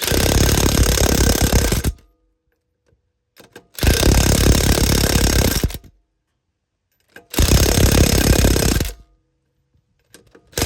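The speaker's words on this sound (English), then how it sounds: "This torque, this impact gun is so old, it has not a lot of pressure." An old pneumatic impact gun drives mower wheel lug nuts in three loud, sustained rattling bursts of about two seconds each, separated by near silence with faint clicks.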